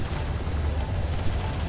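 Steady weapons fire from the real-time strategy game Homeworld: Deserts of Kharak, a loud continuous rumble of guns and artillery with no pause.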